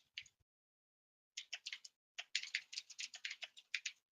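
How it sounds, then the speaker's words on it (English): Rapid clacky keystrokes on a computer keyboard, a short burst, a pause, then a longer steady run of typing, close and crisp with no talking. "That's my clickety clackety keyboard you can hear."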